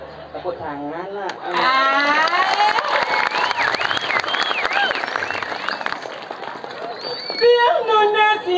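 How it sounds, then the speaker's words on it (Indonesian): Applause and cheering from an audience at a Balinese Calonarang temple performance at Pura Dalem Swargan, dense and sustained for several seconds beneath loud, excited voices and a singing or shouting performer. "Tepuk tangan lah."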